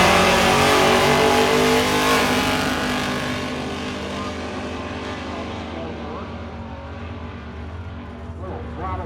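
A drag racing car launches down the strip on the final day of Hot Rod Drag Week 2025, its loud, broad engine roar gradually fading as it pulls away into the distance.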